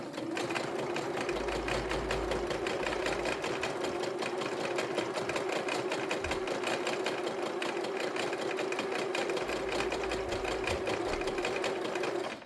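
A sewing machine runs steadily while stitching a tote bag, a continuous even whir with a fast rhythmic needle clatter, close and alone.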